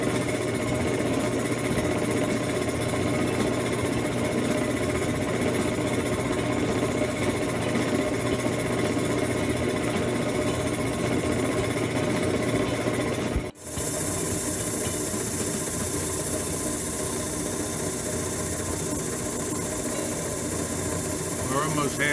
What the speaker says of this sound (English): We're almost halfway through cutting this slab.